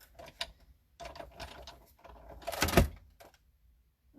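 A die-cutting machine rolls a cutting plate through in a few short mechanical bursts, with a louder grinding, clunking pass near the end; it is fairly close and heard alone.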